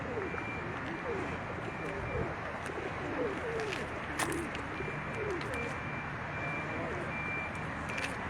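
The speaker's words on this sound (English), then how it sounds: "Got some geese." Geese and other birds gathered outdoors, calling repeatedly at mid distance over steady traffic rumble, with a vehicle reversing beeper and a person talking nearby.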